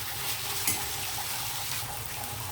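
Tomatoes cook in hot oil in a pan for an Andhra-style dried prawn curry, giving a steady, close sizzle with occasional soft stirring scrapes and no talking.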